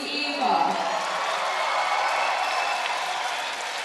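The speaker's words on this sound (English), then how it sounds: "just coming out now and the crowd erupt" Arena crowd at a world judo championship, a dense sustained roar of cheering and applause as an athlete walks out, loud and continuous throughout.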